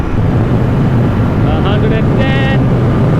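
A Royal Enfield Continental GT 650 motorcycle, a 650 cc twin, runs hard at high speed on the open road. Its engine and heavy wind roar hold steady and loud throughout, and a voice speaks briefly partway through.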